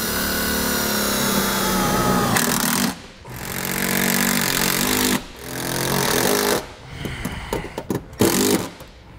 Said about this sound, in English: we'll just secure these down in place with our self-tapping screws